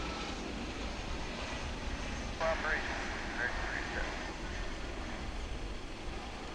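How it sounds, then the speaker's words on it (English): An American Airlines A321 airliner departs Dallas/Fort Worth International Airport, heard as a steady, distant jet roar that holds at an even level while people talk over it. "A321 off to Denver"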